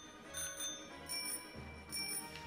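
A bicycle bell rung in the video game Pokémon Shield sounds in three short, bright bursts spaced under a second apart, clear and alone over a quiet game backdrop.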